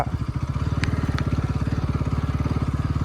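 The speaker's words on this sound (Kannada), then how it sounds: "ಸೆಕೆಂಡ್ ಗೇರಲ್ಲಿ ಎಕ್ಸ್ತಾ ಇದ್ದೀನಿ ವಿತ್ ಅ ಪಿಲಿಯನರ್" A Bajaj NS200 motorcycle carrying a pillion rider runs in second gear, its engine giving a steady, close, rapid thumping drone throughout with a couple of brief higher clicks.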